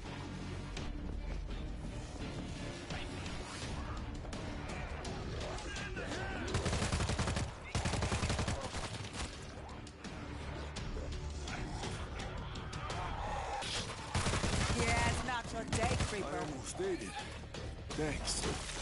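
Game gunfire from World War Z, a zombie shooter, rattles in dense bursts throughout, loud and continuous with sharper peaks, mixed under overlapping voices and game chatter.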